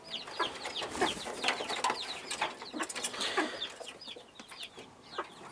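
Chickens and young chicks cluck and cheep continuously in a coop while being fed watermelon, busy overlapping calls close by, with occasional wing flaps.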